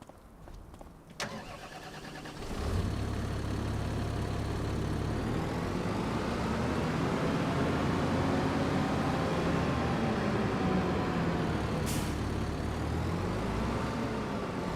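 A tractor engine cranks and catches in Farming Simulator 25, then settles into a steady, loud idle rumble that holds for the rest of the stretch, with a short sharp click late on and no voices.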